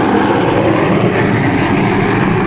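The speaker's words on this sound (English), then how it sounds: "Huge airliners carry into the sky each day an ever larger tonnage of cargoes and passengers." A dense, continuous roar of an airliner in flight fills the whole clip, steady and loud, with no other sounds.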